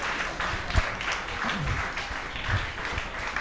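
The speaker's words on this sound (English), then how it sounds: "A big round of applause for the school to have thought out, to think about this." Applause at an inter-school science quiz, a sustained patter of many hands filling the room at steady loudness, with faint voices underneath.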